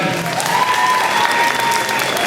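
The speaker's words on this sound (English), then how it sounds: "Hey, how about a big round of applause for Roger Mellon?" A crowd claps loudly and steadily at a school Christmas concert, a dense, continuous round of applause with a few faint whistles or cheers mixed in.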